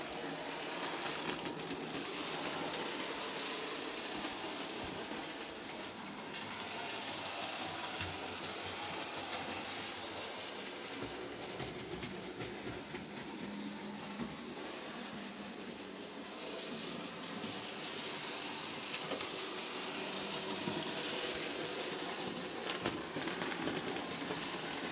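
Model trains run around a home layout with a continuous low rumble and faint clickety-clack of wheels on track, steady and fairly quiet with no voices.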